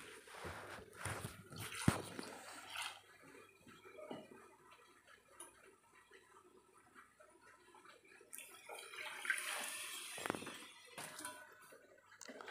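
Water poured over maapillai samba rice to make kanji, a steady splashing pour with brief louder bursts near the start and again toward the end, close by and without talk.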